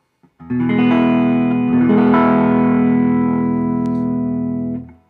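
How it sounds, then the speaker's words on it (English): A single chord from a Gibson ES-335 electric guitar rings out through a 1965 Fender Deluxe Reverb tube amplifier, warm and slightly driven, sustaining for several seconds before fading. "Here's the sound of my 335. I'm playing through a 1965 Fender Deluxe Reverb."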